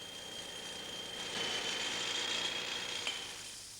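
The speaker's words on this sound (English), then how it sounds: "These men are drilling a hole in a block that's been sawn." A power drill bores a hole into a sawn block of quarried stone, giving a continuous, fairly quiet mechanical grinding drone with a faint steady whine, swelling slightly in the middle.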